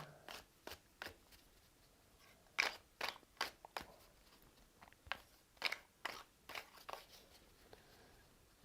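Board game pieces for The Hobbit: An Unexpected Journey are gathered and shuffled, giving a series of close, crisp clattering bursts in irregular clusters with quiet gaps between them.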